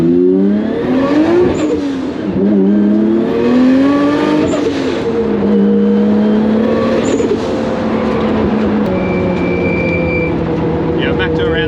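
In-car sound of a Nissan Skyline R33 drift car with a MoTeC ECU revving on track, the engine climbing and dropping through the rev range, loud and close with a droning tone, with a faint voice now and then.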